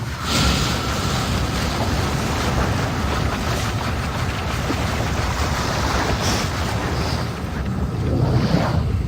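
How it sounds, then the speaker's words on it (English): Water drains in the video game Riven as a steady broadband rushing wash, continuous and fairly loud throughout with slight surges, no speech. "Yay, we drained the water."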